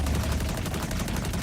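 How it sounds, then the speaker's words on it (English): Rapid, unbroken automatic gunfire from a Borderlands endgame build with the Fool's Gold C4SH, shots blurring into a dense, steady roar with no pauses and no talk. "I just keep firing. I don't have to release it."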